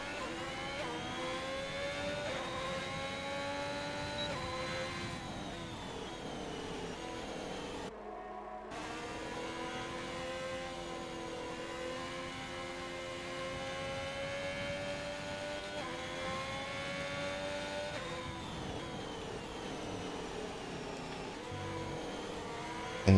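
A Formula 1 race car engine in a French online racing game whines steadily and loudly for over twenty seconds, its pitch rising and falling through gear changes, with one brief drop-out near the middle.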